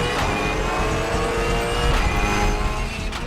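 Race cars at the start of a Sandown Super Sprint motor race, a dense, steady engine roar with a pack of cars accelerating together, loud and continuous throughout.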